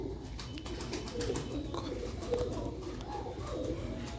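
Pigeons kept for sale with Sialkoti quails and pigeon chicks coo in low, steady, repeated murmurs over a constant background hum, with a few faint higher chirps mixed in.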